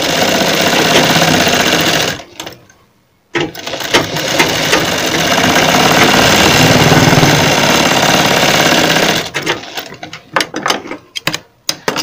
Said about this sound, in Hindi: इस प्रकार हम सिलाई लगा लेंगे।